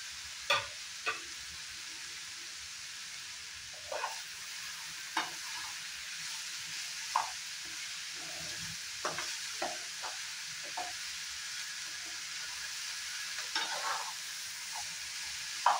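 Chopped capsicum, spring onion, a large onion and green chilies sizzle steadily in a pan for a vegetable sabji, with a constant frying hiss and scattered clicks of a spatula stirring.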